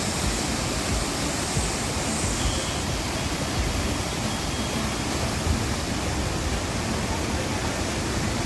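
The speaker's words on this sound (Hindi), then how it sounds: "एकदम क्रिस्टल क्लियर पानी बह रहा है" Clear river water rushes past near the Siddhbali Hanuman temple in Uttarakhand, a steady, loud, broadband roar of flowing water that stays unchanged throughout, with no voices.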